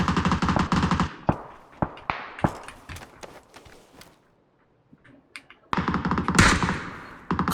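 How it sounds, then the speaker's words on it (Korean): Rapid automatic gunfire from behind in a PUBG-style battle royale game: dense bursts at the start and end, with scattered single shots and short volleys between and a brief quiet gap near the middle. "뒤쪽에서 쏘고 있어요"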